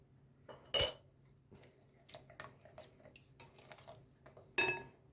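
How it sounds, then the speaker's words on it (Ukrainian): Utensil clinking and scraping against a bowl as ingredients for a homemade bake with vanilla sugar are stirred, with a sharp clink near the start, soft intermittent scraping, and another clink near the end, close and quiet. "І гарненько розмішаю все."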